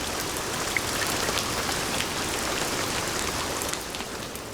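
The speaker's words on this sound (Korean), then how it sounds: "툇마루에 앉아 처마 끝에서 떨어지는 빗소리를 들으면" Steady rain pours from the eaves of a traditional Korean hanok, a dense, even patter of drops that stays fairly close and continuous with no voices.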